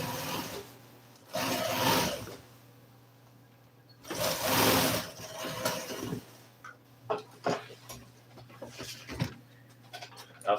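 A sewing machine top stitches the edge of a Ford F-100 seat cover in two loud, close bursts of rapid stitching separated by pauses, then gives short clicks and fabric handling sounds.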